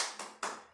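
Two sharp, close claps of a rhythmic "tepuk hebat" group clapping chant in an Indonesian teacher training session, each burst quick and fairly loud with a short gap between them, and no talking.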